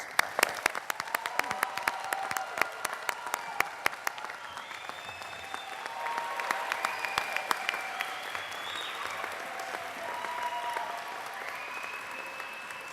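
A commencement audience applauds graduates, starting with a few sharp, separate claps that quickly merge into broad, sustained clapping from a large crowd, with scattered voices and whoops mixed in.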